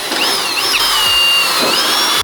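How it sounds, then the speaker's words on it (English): A power drill bores out a fender mounting hole on a JZX100 Chaser drift car, a loud, steady whine with a shifting pitch that runs for about two seconds and then cuts off abruptly. "We'll drill this out and try to get this fender mounted."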